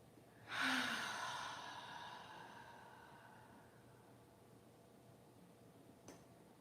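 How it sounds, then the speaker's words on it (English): One slow, deep exhale rushes out close and clear, fading over several seconds into quiet room tone during a guided breathing exercise. "Try to blow out until your belly is completely empty"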